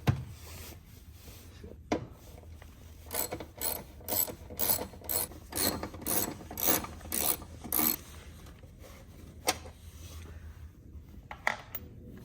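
A ratchet wrench with a 10 mm socket and extension clicks in a steady run of about a dozen sharp, close ratcheting bursts, loosening fasteners on the air box of a 1999 BMW 328i, with a few isolated clicks after.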